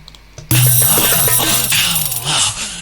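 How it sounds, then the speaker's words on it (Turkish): Ilahi-style drum rhythm programmed in FL Studio, a loud, dense electronic percussion loop that enters abruptly after a quiet moment and plays steady bright hits over a sustained low tone. "mesela ilahi ritmine bakalım"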